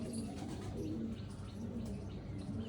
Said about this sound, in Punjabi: ਆ ਕਬੂਤਰ ਹੈ ਇਹ